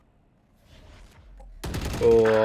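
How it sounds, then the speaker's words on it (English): Gunfire erupts in a Valorant esports match, a burst of rapid shots breaking in loud after a quiet build-up, alongside game effects and a brief exclamation from a caster. "the gunfire is coming through"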